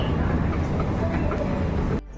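Delhi metro train, a loud steady rumble and rushing roar heard up close from inside, cutting off abruptly near the end.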